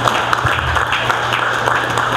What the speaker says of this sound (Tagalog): Palakpak naman kayo.